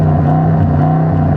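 Audi RS6 estate engine revving loudly up close in full exhaust mode, a steady deep throaty drone holding for the whole moment with no talk over it.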